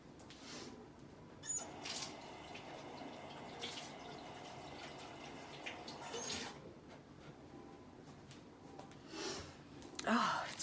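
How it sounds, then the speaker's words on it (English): Tap water runs steadily while hands are washed under it, a soft, fairly faint hiss with a few louder splashes and clatters, especially near the end. "Oh, let me go wash my hands again."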